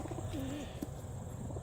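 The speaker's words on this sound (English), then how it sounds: "Birds are in the box." Homing pigeons confined in a transport box before a 52-mile release coo softly, with a low, faint warble rising over steady outdoor background noise.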